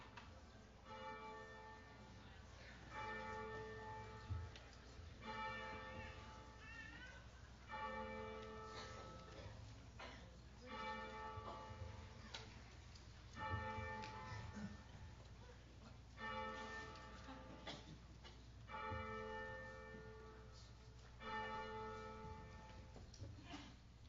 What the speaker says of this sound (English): There is a bell for each of the 83 graduating seniors. Let's just listen to the last few toll for them.